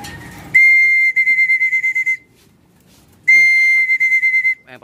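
A person whistles to train racing pigeons at a loft, sounding two loud, close bursts, each a long sustained note followed by a rapid run of short pulsed toots, with near-silence between them.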